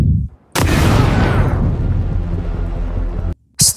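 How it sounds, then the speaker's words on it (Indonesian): A film explosion bursts suddenly after a brief quiet, a loud roaring boom that rumbles and decays for a few seconds before stopping abruptly. "setelah ledakan tersebut"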